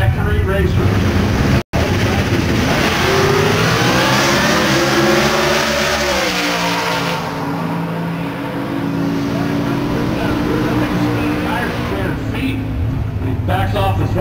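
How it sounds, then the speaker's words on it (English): Supercharged factory Camaro drag racers tear down the track at an NHRA event at Gateway Motorsports Park, a loud, continuous engine roar whose pitch climbs and shifts as they accelerate, with a commentator's voice beneath. "They are both Coco Camaros. Now, all of these cars are supercharged factory racers."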